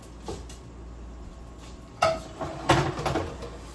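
Pans clatter on a home kitchen stove while cooking pepper steak and cabbage, with a few sharp metallic knocks and clanks near the end over a quiet background, no talking.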